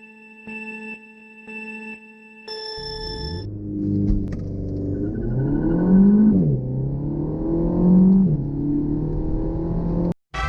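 A Renault Mégane R.S. Trophy makes a launch-control start: a few electronic chimes, then the engine roars up loud and close, rising through the revs with a brief dip at a gear change before climbing again and cutting off abruptly.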